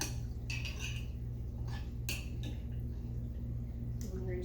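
A spoon spreads vegan bruschetta topping onto crispy, golden-edged bread, making scattered faint clinks and light scrapes. The sounds are quiet and close, with no talking.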